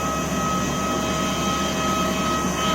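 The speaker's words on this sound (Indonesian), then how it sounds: "Jadi saya lagi ngerekam pesawat Airbus A320 AirAsia." An AirAsia Airbus A320neo jet engine idling on the ground before pushback: a steady, loud, unbroken whine with a deep rumbling roar beneath it, constant throughout without any change.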